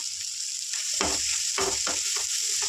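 Boti (goat tripe) fry sizzling in hot oil after coriander is added, a steady close frying hiss broken by several louder crackling bursts, with no talk.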